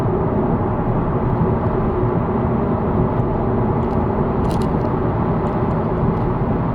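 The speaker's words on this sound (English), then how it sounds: "It's mainly wind noise" Constant wind and road roar inside a car cruising at 70 to 80 mph around 3,000 RPM, a dense, steady low rumble and hiss with no talk.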